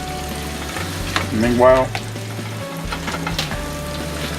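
Cooked turkey sausage fries in a paella pan for seafood paella, making a loud, continuous sizzle with stirring scrapes; a voice briefly speaks a single word over it.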